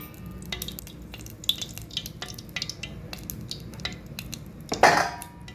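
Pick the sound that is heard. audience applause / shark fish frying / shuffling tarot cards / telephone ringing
shark fish frying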